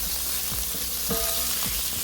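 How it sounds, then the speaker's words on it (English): Thinly sliced pork with minced onion sizzles steadily in a frying pan for Thai pork fried rice, a dense crackling hiss with a few soft clinks of a utensil stirring. "Listen to that meat sizzle."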